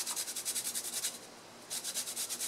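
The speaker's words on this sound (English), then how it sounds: "I'll grate about a teaspoon of this." Frozen ginger with its skin scraped off is rubbed across a grater in quick, rhythmic rasping strokes, pausing briefly midway before the scraping resumes, close up with no talking.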